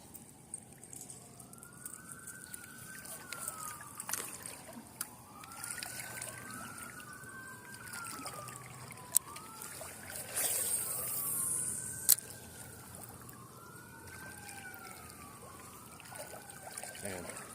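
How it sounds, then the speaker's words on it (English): Distant wailing sirens rise and fall in steady repeating sweeps behind a riverside walk, with faint trickling water and outdoor ambience; sirens stay in the background, fairly quiet throughout. "We got the sirens in the background."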